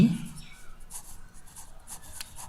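Chalk or marker scratches across a board in short, quick strokes, heard close beneath a teacher's talking.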